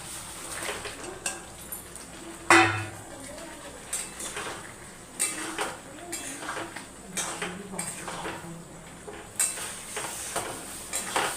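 Boiled bottle gourd and potato tipped into spiced masala in a cooking pot, with close clanks of a metal spoon against the pot and soft stirring, repeated scrapes and knocks spaced through the scene.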